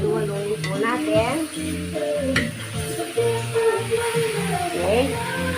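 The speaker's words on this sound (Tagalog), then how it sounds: "haluin po natin" Igado, Kapampangan style, sizzles in a hot pan while it is stirred, with a voice talking over the steady frying.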